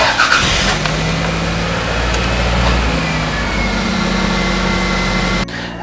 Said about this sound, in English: it will help if you actually turn on the donor car so that the charging can happen a little bit faster